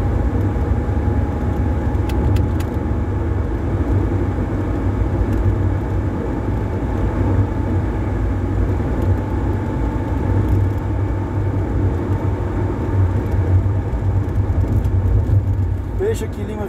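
A car's engine hums steadily while the driver eases gently onto the electronic accelerator. The engine gives a constant, close, loud drone with road rumble and no sharp revving, and a voice speaks over it.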